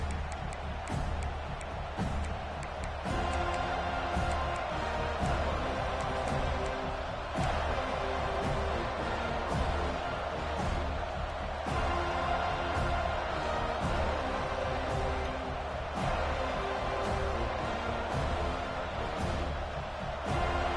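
A roaring stadium crowd in the NCAA 26 college football video game, Michigan hosting Florida State, forms a dense, steady wall of noise that stays loud throughout with no one speaking.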